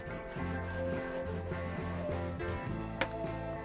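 Polishing compound rubbed onto a leather strop, a steady close rasping friction in repeated back-and-forth strokes, with a single sharp knock near the end.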